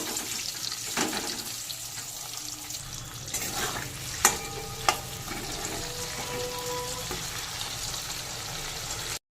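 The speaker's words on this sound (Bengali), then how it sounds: "দিয়ে দিলাম টুকরো করে কেটে রাখা আলু দিলাম নুন আলু হালকা লাল করে ভেজে নেবো" Cut potato pieces with salt fry in hot oil in a pan, a steady close sizzle with a couple of sharp knocks from stirring partway through.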